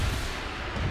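An MGM missile fires in a video game, a very brief deep boom with a dense low rumble that fills the moment, loud and alone.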